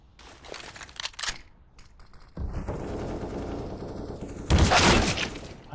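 Gunfire during a Counter-Strike match: a few scattered sharp shots early on, then a sustained burst of rapid firing that swells into a louder, dense volley near the end, with no voices.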